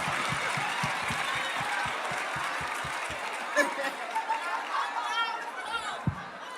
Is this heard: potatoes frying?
no